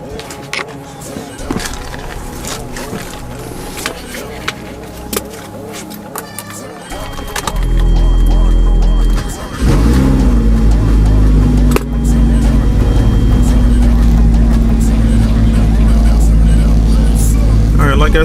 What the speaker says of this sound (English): let's hop in the car, start this up